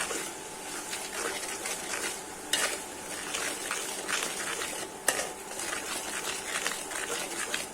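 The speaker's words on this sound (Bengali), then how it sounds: "এখন নেড়ে চেড়ে মশলাটা কষিয়ে নিচ্ছি।" Spice paste with chilli powder and salt being stirred and fried in a pan for a hilsa fish curry, a soft steady sizzle broken by utensil scrapes and two sharper knocks against the pan.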